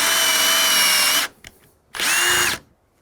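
A power drill bores a hole through a wooden door for a keypad electronic lock set, running loud and steady for over a second, stopping, then whining again in a second shorter burst.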